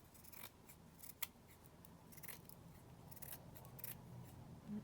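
Scissors snip and trim paper up close, a handful of quiet, crisp cuts spaced irregularly over a low room background.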